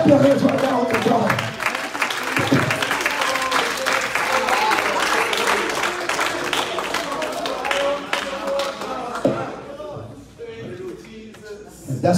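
A church congregation claps hands together, loud and fairly continuous with mixed voices and cheering, thinning out and fading toward the end.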